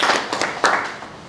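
A few close, loud hand claps from an audience at a formal ceremony, brief and uneven, with no talking.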